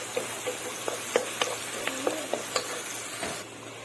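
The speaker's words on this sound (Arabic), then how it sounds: "افضل بقى اشوح فيها لعند ايه الفلفل ما يدبل معايا" Peppers sauté in a hot pan with a continuous close sizzle, broken by a series of light scraping stirs and taps of the spoon every half second or so, with no talking.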